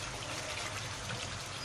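Tamarind water, pulp and all, is poured into a pan of frying potatoes, giving a steady watery trickle and soft sizzle that runs evenly throughout without a break.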